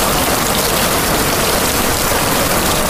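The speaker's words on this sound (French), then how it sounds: "La pluie battante tombée ce mercredi à Ouagadougou" Driving, heavy rain pours down over Ouagadougou in a loud, unbroken roar of water that stays constant for three seconds, with no voices.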